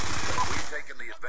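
Rapid automatic gunfire from a Call of Duty Black Ops 2 match rattles loud and close in quick repeated bursts for about half a second, then trails into a fading echo with faint game sounds.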